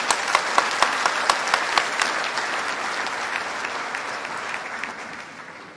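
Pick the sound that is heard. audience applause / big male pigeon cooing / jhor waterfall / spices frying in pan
audience applause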